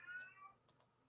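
A house cat gives a single short, faint meow, followed by a couple of soft clicks in a quiet room.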